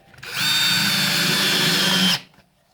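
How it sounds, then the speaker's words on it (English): A power drill driving a screw to fix an engine stand for an old Morris engine down onto a wooden workbench, one close, loud, steady whine lasting about two seconds that starts and stops abruptly. "I'm just sort of screwing this down into the bench"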